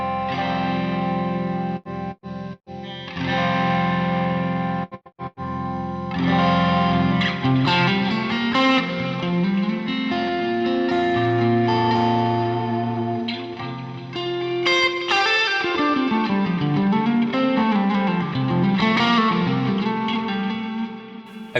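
Electric guitar played through the Scuffham S-Gear amp simulator plugin, a sustained distorted phrase with chorus-like shimmer and reverb, bending and sliding melodic lines, played alone without talking.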